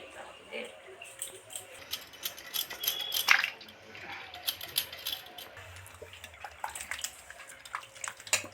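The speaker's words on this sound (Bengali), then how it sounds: "আলুগুলো ভালো করে ধুয়ে নিলে রোগড়ে রোগড়ে কচলে কচলে ধুয়ে নিতে লাগে" Potatoes being scrubbed and washed in water, with splashing, sloshing and dripping as they are rubbed by hand, fairly close, while people talk in the background.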